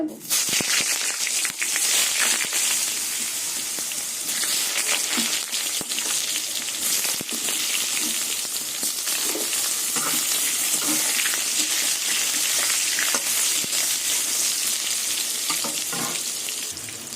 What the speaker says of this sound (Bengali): এই মাছের তেলের মধ্যে বেগুনগুলো ভেজে